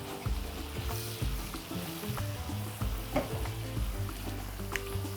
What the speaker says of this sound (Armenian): Հարյուր գրամ ալյուրը ավելացնելուց հետո տապակում ենք։